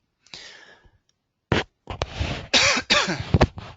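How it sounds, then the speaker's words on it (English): Several harsh coughs and throat-clearing bursts from a presenter with a cold during a planning exam-prep webcast, close to the microphone, coming in uneven clusters separated by short silences. "I wind up with a cough."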